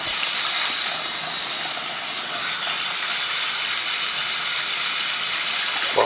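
Hot tap water runs in a steady hissing stream to soften a cold, hard toilet wax ring, a close and constant gush with no talking.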